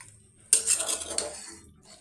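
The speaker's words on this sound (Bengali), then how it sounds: "এটা এভাবে কষিয়ে নিব কিছুক্ষণ পাঁচ মিনিট এটাকে শুধু কষাবো" A utensil knocks and scrapes against a pot as jackfruit and meat are stirred and sautéed, one sharp clank followed by a short run of scraping, with near silence before it.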